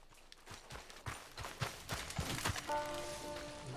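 Horse hooves clip-clop in a steady rhythmic gait in Red Dead Redemption 2, the hoofbeats close and fairly clear, with sustained tones entering toward the end.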